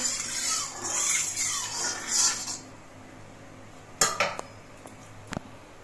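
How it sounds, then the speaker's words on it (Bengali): A metal spatula scrapes around a hot wok coated with mustard oil, giving a few bright metallic scrapes and rasps up front, then sparse sharp clinks against the pan's rim in a quieter kitchen. "এবার খুন্তি দিয়ে আমি কড়াইয়ের চারপাশে লাগিয়ে নিচ্ছি।"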